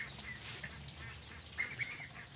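Peking ducks on a duck farm quack faintly in a few short calls, distant and soft over a low background hum.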